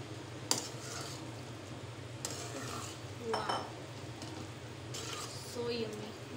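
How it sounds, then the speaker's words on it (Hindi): Spaghetti being mixed into a chicken tomato gravy in a pan, giving soft, intermittent utensil scrapes and clinks against the pan, with a few sharper taps over a low steady background hum. "अब इसको इसके अंदर अच्छे तरीके से मिक्स कर लेंगे।"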